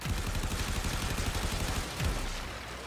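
Dense, rapid gunfire from the video game Warframe rattles continuously with low thumping impacts, loud and close, with no clear pauses.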